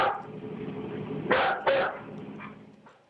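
A dog barks twice in quick succession at moderate distance, two sharp bursts standing out over a steady low background rumble, with no talking.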